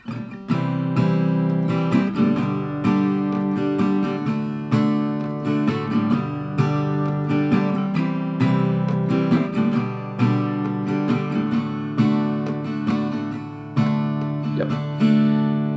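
Guitar chords for a song strummed in a steady down, down, up pattern once per chord, each chord ringing fully before the next, played alone and fairly loud.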